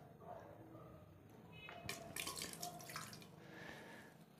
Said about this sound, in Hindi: ये देखिए पानी तो नीचे गिरना शुरू हो गया